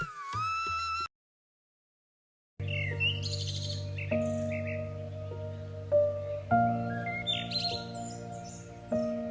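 A red parrot chirps as a sound effect in a Hindi story, with a brief call, a moment of silence, then a run of clear, close tweets and chirps.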